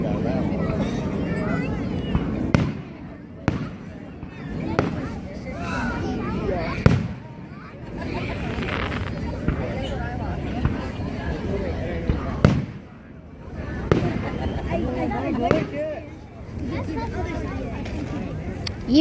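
Fireworks burst with repeated booms and crackles, some set off low near the ground, while people around talk and chatter throughout.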